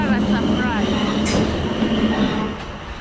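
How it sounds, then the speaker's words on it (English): A train rumbles across a railway bridge near Hilsea, Portsmouth, its steady low roar and rail hum filling the clip up close before easing slightly toward the end, with faint squeals above. "oh, there is the train."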